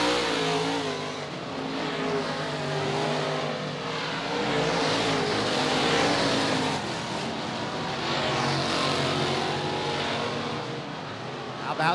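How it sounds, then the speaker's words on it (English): An open wheel modified race car engine roars continuously around a raceway during a feature race, a loud sustained drone that swells and eases with the laps, with no talking. "The car sounds good"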